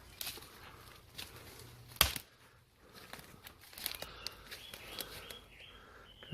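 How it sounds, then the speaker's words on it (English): Birds chirp faintly and sporadically in a quiet, steep-walled cutting at a disused railway station. Scattered crunching and rustling underfoot sounds close by. "Very quiet and peaceful apart from the birds."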